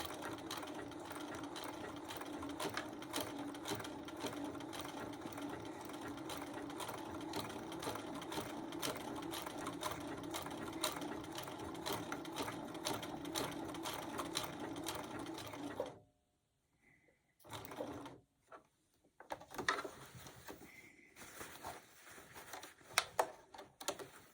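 A sewing machine runs steadily while stitching appliqué onto a wall hanging, a close, rapid mechanical whir lasting about sixteen seconds before it stops, followed by a few brief stitching bursts and pauses.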